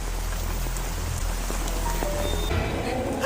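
Steady rain falling outside a house in a film scene, a dense continuous hiss of drops with a low rumble underneath and a few faint tones near the end.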